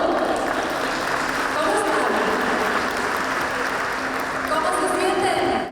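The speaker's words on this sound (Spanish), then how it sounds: "¡Fuertes aplausos!" Loud, sustained applause from an audience at an event, continuous clapping throughout with speech sounding over it.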